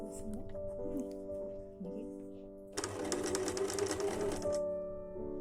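A sewing machine stitching triangle corners along the edges of a patchwork quilt: a brief, fast, steady whirring run of stitches in the middle, over soft background music and a voice.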